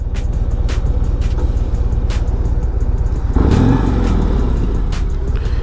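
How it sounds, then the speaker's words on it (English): Steady rumbling exhaust of a 2024 Road Glide motorcycle idling close up, a continuous low throb with a brief swell of revving partway through, no voices. "It sounds great. The exhaust is amazing on this bike."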